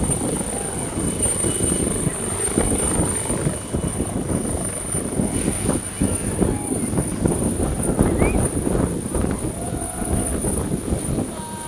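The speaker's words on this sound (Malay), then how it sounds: "Dan helikopter pun bakal berlepas." A helicopter taking off in Pontian gives a steady, close, thumping rotor and engine drone that holds evenly for the whole stretch, with faint crowd noise underneath.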